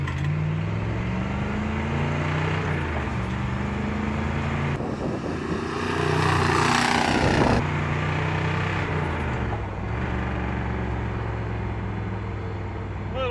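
A 1964 Mercury Marauder accelerating hard, its engine roaring loudly with rising and falling pitch through the gears, close by, with a brief rush of tire and wind noise midway.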